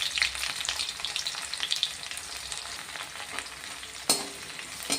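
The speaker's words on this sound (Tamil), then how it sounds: "லேசாக கொஞ்சம் அந்த எண்ணெயில் கொஞ்சம் வதக்கி விட்டுருங்க" Okra sautéing in oil in a pan after onions, giving a steady, moderately loud sizzle with light stirring and one sharper clatter near the end, and no talking.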